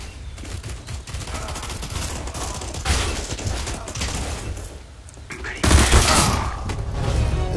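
Gunfire in Counter-Strike: Global Offensive, with bursts of rapid shots and repeated single cracks in a firefight, loud and close, while a player talks over the action.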